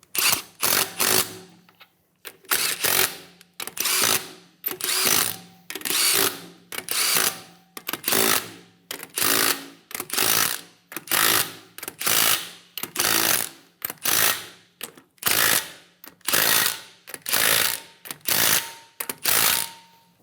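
Ratchet clicking in steady repeated bursts while snugging the exhaust manifold bolts on the right side of a 2007-2017 Ford Expedition with the 5.4L V8, each burst a rapid close metallic pawl rattle separated by short pauses.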